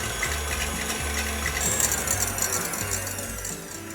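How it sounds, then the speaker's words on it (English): A handheld electric mixer whisks egg whites to stiff peaks, its motor whirring steadily up close, with the pitch wobbling and the beaters rattling in the bowl. "you can use a handheld machine, it works like magic. But you need to whisk this really stiff"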